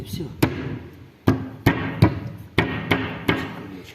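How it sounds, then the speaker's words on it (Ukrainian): Hammer drives nails into a cover on an MTZ 82.1 tractor during a repair, with seven sharp, loud strikes in an uneven rhythm and short pauses between blows. "Заколачувати гвозді."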